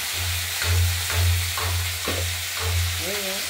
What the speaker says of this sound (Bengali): এগুলো ভেজে নেবো আমরা